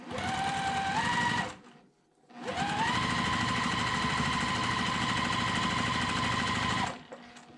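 A sewing machine stitches quilt four-patch blocks in two runs, a brief burst then a longer steady whirring stretch after a short pause, close and loud.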